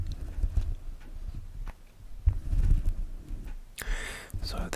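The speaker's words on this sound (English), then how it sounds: "I rub Stress Cow on the mic." Squishy painted foam stress toy shaped like a cow rubbed against a microphone, giving close, soft muffled scrubbing and thumping textures with a brief brighter rustle near the end.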